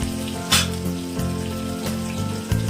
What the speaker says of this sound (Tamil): பெரிய வெங்காயத்தை ஸ்லைஸ் பண்ணி வச்சு தாளிப்பில் ஆட் பண்ணிக்கிறேன்.